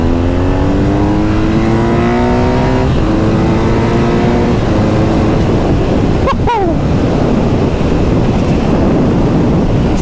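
A BMW R NineT Scrambler's 110-horsepower boxer engine pulls up through the gears while riding, rising tones climbing in steps with brief drops at shifts, loud and close beneath heavy wind buffeting, with no talk.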